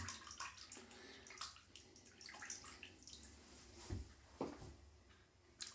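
Warm water running from a tap into a bathroom sink before a shave, a faint steady trickle and splash with a few clunks and knocks.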